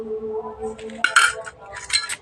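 A silver bowl and spoon, a baby's rice-ceremony gift, knocked together in a few bright metallic clinks and chimes, close and fairly clear over a low background tone.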